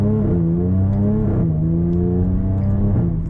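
An F-Type sports car engine revs in a few rising and falling pulls, a deep throaty growl heard up close with no talking.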